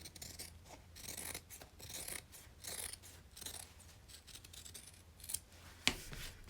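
Scissors trim the bottom of fabric on a quilted purse, with close, steady crisp snipping and a hissing shear through the cloth over a faint low hum.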